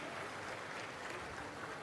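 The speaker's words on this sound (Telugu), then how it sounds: "గట్టిగా చప్పట్లు కొట్టి అభినందించండి." An audience at an official stage event with police officers bursting into dense, continuous applause, loud and even throughout, with no one speaking over it.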